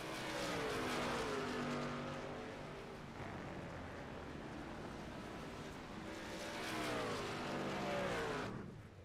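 Race cars run on pit road at the Red Bull Ring during a GLSR road race. Engine tones rise and fall as cars pass, a loud droning roar that swells twice and stays heavy for the whole stretch, with no voices.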